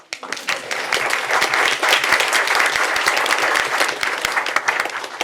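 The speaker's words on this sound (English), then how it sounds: "If we could give a round of applause." A room of attendees at a county board committee meeting claps in a sustained round of applause, dense and steady for several seconds before tapering at the end.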